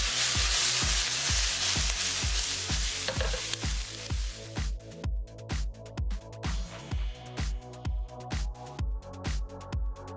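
Onion and cabbage stir-fried with soy sauce in a hot pan, a loud sizzle fading into a steady rhythm of regular stirring scrapes, roughly two per second, with no talk.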